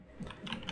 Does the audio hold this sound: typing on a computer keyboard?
yes